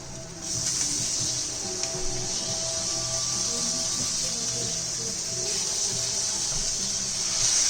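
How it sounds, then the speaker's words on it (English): About a cup of water is poured into a pan of cooking vegetable butter masala curry, a steady close hiss and splash with sizzling that runs for several seconds. "I'm going to add about a cup of water to this"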